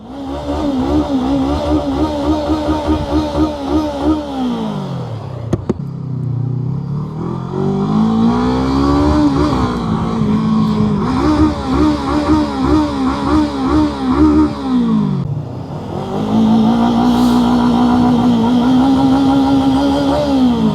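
A Honda CBR500R motorcycle engine revs hard and loud at close range, climbing and falling in repeated long sweeps with brief drops between pulls.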